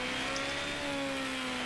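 A car turning, its engine holding a steady, even mid-pitched hum with a faint higher whine above, continuous and unbroken with no voices.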